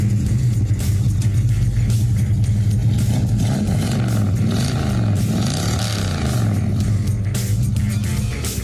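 A 1965 Ford Falcon engine idles with a steady, loud low rumble and some clatter, holding even throughout at a car show.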